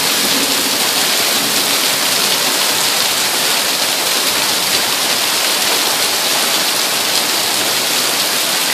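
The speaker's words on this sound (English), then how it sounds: "Here's our hailstorm." A summer hailstorm at Lake Tahoe, heard as a dense, steady roar of hailstones pelting surfaces, loud and continuous throughout with no talking.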